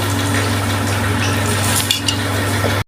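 Crisp fried fish lifted from hot oil in a village-style Bengali kitchen, with a steady, close sizzle and hiss running throughout over a low hum, then cutting off abruptly at the end.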